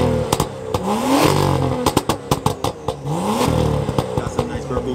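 A BMW exhaust revving with its valves closed, engine swelling through two rising pulls with sharp pops and clatter in between, loud and close, with voices talking over it.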